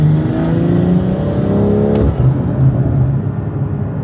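A BMW M340i accelerates at full throttle in fourth gear, a loud, close engine roar whose tone climbs steadily as revs build over several seconds.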